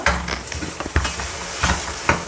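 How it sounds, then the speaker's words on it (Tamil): Tomato, onion and cashew gravy sautés in a pan, giving a steady close sizzle and hiss with a few soft stirring scrapes scattered through. "இது ஒரு 2-3 மினிட்ஸ் வதங்கட்டும் நல்லா"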